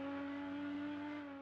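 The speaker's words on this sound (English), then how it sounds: "full on the throttle" Rally car engine in the Richard Burns Rally video game held at full throttle, a steady high-pitched rev with strong harmonics, loud and continuous, fading slightly at the end.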